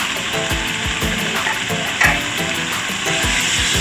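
Dill and scallions stir-fried with pork in a hot pan give a loud, close, continuous sizzle, with rhythmic scraping and clacking of a spatula tossing the food about twice a second.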